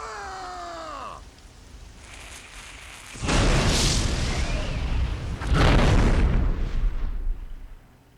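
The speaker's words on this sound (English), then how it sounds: "But the cannons are set up, and now it's time to blast these guys." Cannon fire in the fantasy strategy game Mark of Chaos, two heavy booming blasts with long rumbling tails, preceded by a short whooshing sweep.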